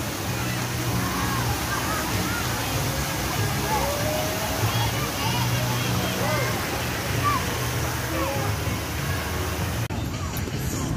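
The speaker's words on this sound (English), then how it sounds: "this is the splash zone. This is like the kids' water park." Kids' splash zone at a resort water park: steady rushing, splashing water fills the scene continuously, with voices mixed into the wash.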